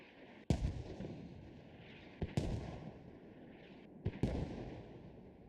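Mortar rounds in the tactical shooter Squad land in a series of three heavy booming impacts, each sharp crack followed by a rolling rumble, heard at a distance over steady wind and ambient battlefield noise.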